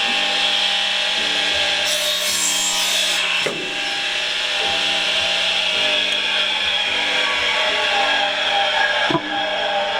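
A stalk of bamboo is sawn by hand for building a mud-and-bamboo house, giving close, steady rasping strokes of the blade against the wood with a few brief knocks.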